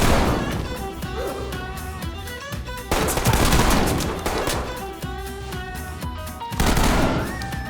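A Benelli shotgun and a Glock 18 fire in Ready or Not, with dense, loud volleys of rapid shots and heavy booms. The gunfire is nearly continuous, with a few short gaps between bursts.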